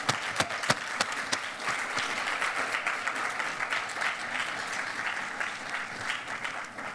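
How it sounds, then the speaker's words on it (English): Sustained audience applause at an evening literary event during Cleveland Book Week, steady dense clapping across the whole stretch with a few sharper claps at the start, filling the room with no voices over it. "Let's give them a round of applause."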